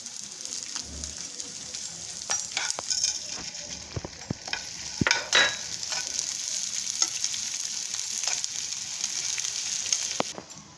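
Edible gum (dink) frying in hot ghee, a steady bright sizzle throughout with occasional sharper crackles and stirring knocks, close and moderately loud, no talking.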